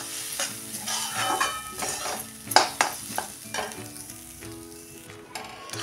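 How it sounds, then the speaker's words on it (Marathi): Semolina is roasted with grated fresh coconut in a pan, stirred with a soft, continuous sizzle and repeated scraping strokes. A few sharper utensil knocks stand out, with light background music underneath. "खोबरं पण आपण 1-2-3 मिनटं चांगलं परतून घेऊया"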